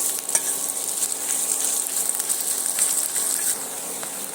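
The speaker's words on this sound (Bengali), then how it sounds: "পেঁয়াজটা আমি এখানে নেড়ে চেড়ে একটু লাল লাল করে ভেজে নেব।" Chopped onion fries in a pan while being stirred: continuous close sizzling with scraping and shuffling from the spoon, and no talking.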